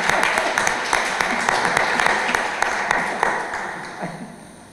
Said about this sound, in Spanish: Un aplauso para esta señora.